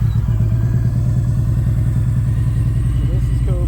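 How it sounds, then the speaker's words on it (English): Kawasaki Voyager motorcycle engine fitted with Cobra exhaust pipes stripped of their fiberglass baffle packing, a steady lumpy low idle with rhythmic thumping pulses, close and loud throughout. "let's see what this thing sounds like with the Cobra pipes"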